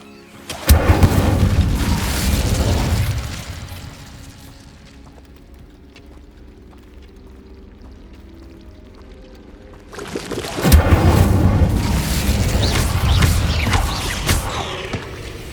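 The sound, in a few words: Bombarda and Incendio spell explosions in video game Hogwarts Legacy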